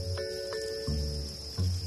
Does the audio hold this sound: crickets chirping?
yes